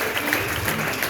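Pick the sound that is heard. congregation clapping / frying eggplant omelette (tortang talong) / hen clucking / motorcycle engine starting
congregation clapping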